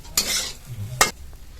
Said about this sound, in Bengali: এবার এর মধ্যে ধনে পাতা কুচি দিয়ে নেড়ে চেড়ে নামিয়ে নেব